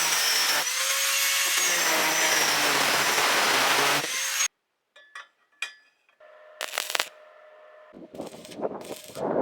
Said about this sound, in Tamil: இந்த ஸ்கொயர் டியூப்பை கிராஸாக வந்து கட் பண்ணிக்கிறேன்